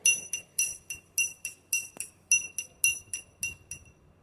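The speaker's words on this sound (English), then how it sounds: "Take a spoonful of chalk powder in a glass of water. Stir it well." A metal spoon stirs chalk powder in a glass of water, tapping and clinking against the glass in a steady rhythm of about a dozen bright strikes, close and alone.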